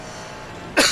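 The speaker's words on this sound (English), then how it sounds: "Oh my god, I was coughing." A single short, loud cough bursts out at the very end after near silence.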